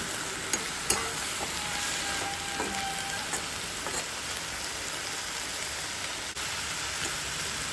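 Water spinach cooks down in a wok with a steady, close, crackling sizzle as the water boils off, and a few soft utensil taps sound over it.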